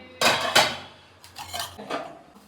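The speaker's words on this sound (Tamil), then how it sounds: "மேலே ஒரு பாத்திரம் இருக்கும் அதை எடுக்கணும்" A cooking vessel taken down from a kitchen shelf, with two loud, close metallic clanks of pots knocking together, then softer rattles and scrapes as the pans settle.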